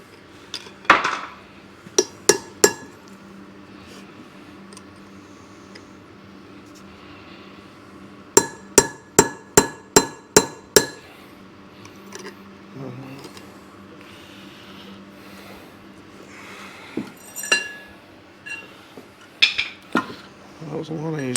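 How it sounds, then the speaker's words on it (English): A hammer strikes a chisel to split part of a CJ5 Jeep axle in a workshop. Sharp metallic clanks come in scattered bursts, including a quick rhythmic run of about seven blows mid-clip, with faint background noise and occasional voices. "so you drill the hole in it like that, split it with a chisel."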